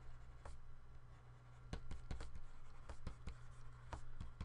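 Chalk or a marker taps and scratches in short, irregular strokes during a math lecture on line integrals, close and fairly quiet over a steady low room hum, with no talking.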